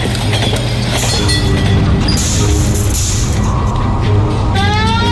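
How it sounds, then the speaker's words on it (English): A trolley departs in the video game LA Noire with a loud, dense mechanical rumble and clatter, a few metallic squeals over it, continuing without a break. "He must have caught the trolley."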